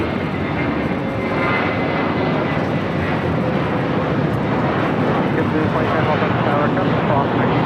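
A 737 MAX 9 airliner takes off from runway 25 right at LAX, heard as a steady, broad engine roar from a distance that holds throughout, with faint radio voices under it.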